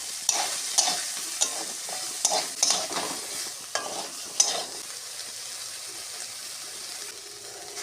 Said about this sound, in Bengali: একটুখানি হলুদ দিয়ে সোয়াবিনটা ভাজলে সোয়াবিনটা দেখতে সুন্দর লাগবে